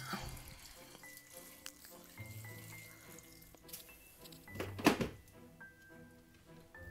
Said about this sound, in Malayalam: ആവശ്യത്തിന് വെള്ളമൊഴിക്കുക